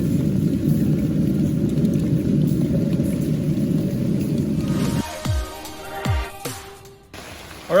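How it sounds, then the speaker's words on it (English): Rain falls outdoors on a suburban backyard where jerky is being smoked, making a dense, steady patter for about five seconds before it gives way to a few low swooping tones and knocks. "we're getting some rain"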